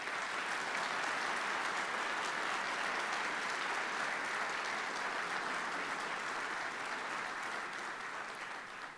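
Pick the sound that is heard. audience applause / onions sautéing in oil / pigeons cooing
audience applause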